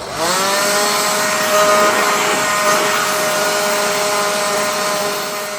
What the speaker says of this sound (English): I clean the gear with a cordless leaf blower before and after powder coating every time